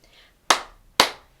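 Hands clap twice, loud and close, the sharp claps evenly spaced about half a second apart against near silence, during a children's action-song routine.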